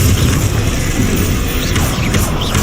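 A Confringo blast spell goes off in Hogwarts Legacy on hard difficulty, a loud booming burst over dense, continuous game noise, with no clear separate impacts.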